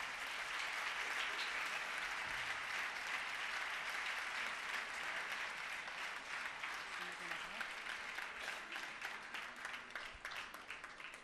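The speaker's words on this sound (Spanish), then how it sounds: "Un fuerte aplauso para esta empresa." Loud, dense applause from the audience at a sports awards gala for a company being honored, continuous clapping that thins slightly toward the end.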